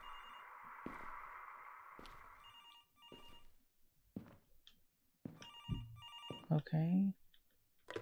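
A telephone rings in short repeated bursts, a bright electronic trill cutting in and out, with people talking in between and a brief word spoken near the end.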